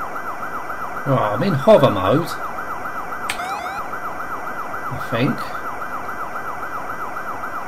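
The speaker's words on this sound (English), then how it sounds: "Let's turn off the siren." A wailing electronic vehicle siren from the Commodore Amiga game The Killing Cloud cycles steadily throughout, with a voice speaking over it partway through and a few brief beeps.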